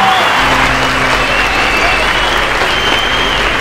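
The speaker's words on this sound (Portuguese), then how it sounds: "quero que vocês recebam com muitas palmas ele, seu Antenor!" Loud, sustained applause from a live comedy show audience welcoming a performer on stage, a dense steady wash of clapping with faint crowd voices and no speech over it.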